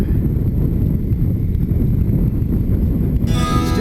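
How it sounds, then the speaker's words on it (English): Steady wind buffets an open-air microphone on a breezy day of paddling through sand hills and wetland, a dense low rumble running unbroken throughout with a brief brighter rustle near the end. "There's a fair wind going on here"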